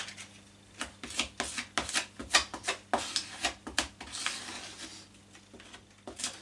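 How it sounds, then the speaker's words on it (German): Filler compound spread over an OSB board with a spatula, heard as a series of close, short scraping strokes in an irregular rhythm, with no talking. "Und da muss ich eigentlich nicht so fein verspachteln."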